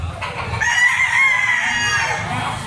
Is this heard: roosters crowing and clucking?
yes